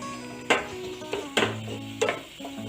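Food sautés in a pan for white sauce pasta, a low steady sizzle broken by several sharp clacks of a utensil scraping and tapping the pan.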